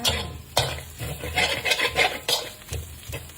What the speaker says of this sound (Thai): นี่ผัดเครื่องสามเกลือนะคะ ผัดเครื่องสามเกลือให้หอมก่อนนะคะ